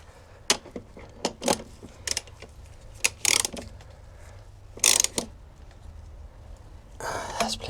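Ratchet tightening bolts behind a BMW E60 dashboard, giving a few short bursts of quick clicking spread across the clip with quiet gaps and faint handling noise between them.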